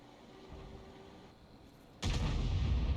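A tank cannon fires in a tank battle video game: a sudden loud, broadband boom about two-thirds of the way through, breaking a quieter rumbling background and sustaining a heavy roar to the end.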